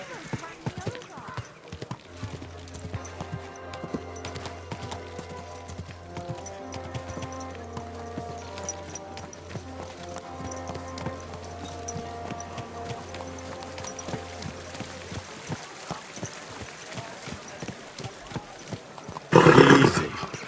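Horse hooves clip-clop steadily in Kingdom Come: Deliverance 2 on a medieval road, moderately close beneath a sustained low musical drone, with a burst of sound near the end and voices talking.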